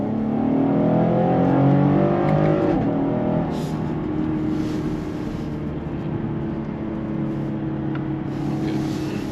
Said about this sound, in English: This is the middle engine. That's a V6.